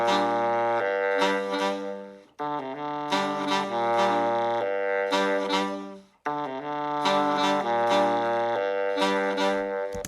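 A saxophone section of alto, tenor and baritone plays a punchy riff in harmony, repeating three times with brief gaps between phrases, loud and close.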